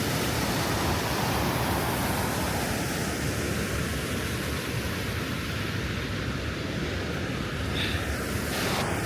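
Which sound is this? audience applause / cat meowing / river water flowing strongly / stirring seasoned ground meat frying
river water flowing strongly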